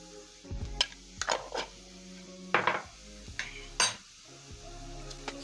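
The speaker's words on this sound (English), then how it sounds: "Stir in the spices so that they can cook together with the onions." Spices stirred into onions cooking over a low flame in a pan for a beans and rice stir fry, heard as a series of distinct metal-on-pan clinks and scrapes in bursts, with a faint sizzle underneath.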